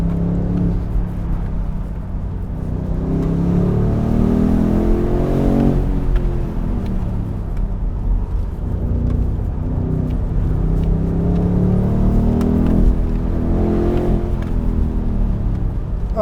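A BMW M850i xDrive Cabriolet V8 accelerates hard, engine note sweeping upward through gears in repeated rising pulls, loud and close with a constant rumble, no talking.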